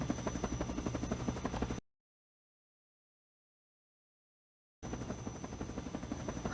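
A helicopter in the video game Garry's Mod flies with a steady, dense rotor buzz. The sound cuts out to silence for about three seconds, then resumes at the same level. No talking.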